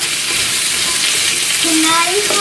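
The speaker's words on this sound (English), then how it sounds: "I just kind of stir like this." Onion rings frying in a pan and stirred with an upturned utensil, a loud, dense, unbroken sizzle that fills the whole stretch, with a brief faint tonal whine near the end.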